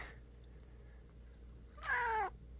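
An older cat with poor eyesight gives a single clear, drawn-out meow outdoors, close and fairly loud, after a stretch of faint background hum.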